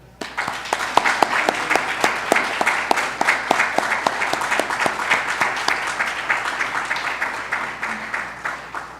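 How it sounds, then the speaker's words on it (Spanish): A church congregation at an Iglesia de Dios Unida service applauds its audiovisual team, a sparse crowd clapping with distinct individual claps standing out over a steady patter, moderately loud and sustained. "Vamos a darle todos un aplauso"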